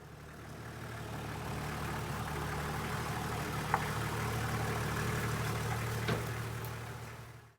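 A Toyota Land Cruiser HZJ75 engine idles steadily with a low, even rumble, a couple of faint clicks breaking through near the middle and end.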